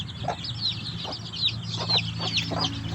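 Three large mother hens cluck steadily while their many chicks peep in high, repeated chirps, all close by and continuous, with no talking.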